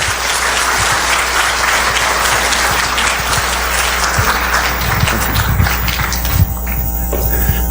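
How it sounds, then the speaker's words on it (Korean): An audience in a university lecture hall applauds to welcome a lecturer at a parents' special lecture, dense sustained clapping under a faint electrical hum that thins out in the final seconds. "큰 박수로 맞아주시면 대단히"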